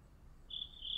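Crickets chirp outside an open window, a steady high-pitched trill starting about halfway through and continuing to the end over low room hum, fairly faint and distant.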